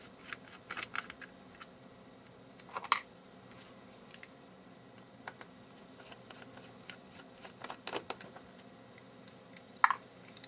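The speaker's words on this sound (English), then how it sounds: "Now I'm going to remove the three screws holding down the motherboard" Small screws are being removed from an HP Chromebook motherboard, giving quiet, sparse clicks and scratchy ticks of a screwdriver against metal, with a couple of sharper snaps standing out against a near-silent background.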